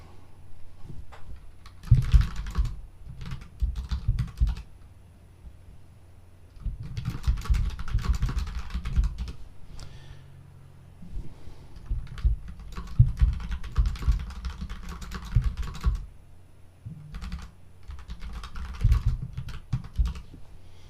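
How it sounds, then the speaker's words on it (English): Fingers type on a laptop keyboard in close, steady clusters of light clicking and tapping, broken by short pauses between bursts, with no voices. "I'm typing."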